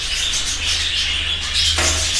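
Budgerigars in a breeder's aviary keep up a dense, continuous twittering chatter of high chirps, fairly loud and close, over a low steady hum, with no voices.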